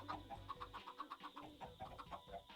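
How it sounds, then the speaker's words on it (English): Chickens clucking in a Minecraft world, a rapid run of short, bright clucks repeating steadily at moderate volume, with a low hum at the start that drops away. "Merlin, why are there so many chickens up here?"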